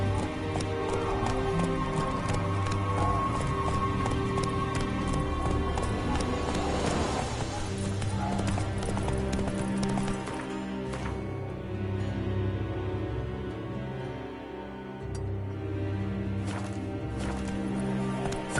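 Geralt's horse Roach galloping in Witcher 3, a steady rhythmic clip-clop of hooves under loud game music and ambience, with a brief whinny.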